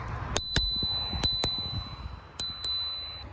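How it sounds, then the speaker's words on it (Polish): A handlebar bell on a Motus Scooty 10 electric scooter is flicked in quick pairs of bright pings, close and clear over faint background noise. "Posiadamy dzwonek."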